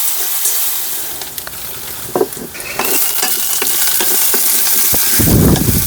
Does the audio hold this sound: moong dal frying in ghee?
yes